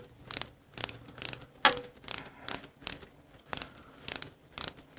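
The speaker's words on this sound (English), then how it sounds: "it's nice to have these ratcheting tools" A ratcheting hand tool clicks in rapid bursts while fitting the intake manifold on a Harley-Davidson Knucklehead engine, about a dozen close, crisp ratchet strokes in an even rhythm with brief pauses between them.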